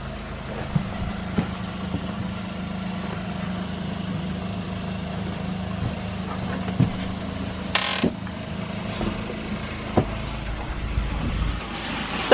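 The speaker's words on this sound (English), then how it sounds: "I'm gonna turn the pump on and we'll see if stuff starts spraying." A steady low motorized hum of a water pump runs throughout, with a few scattered clicks and knocks over it and no talking.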